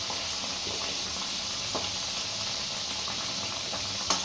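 Raw banana kofta frying in oil over medium heat, a soft continuous bubbling sizzle with small pops, fairly quiet and steady throughout.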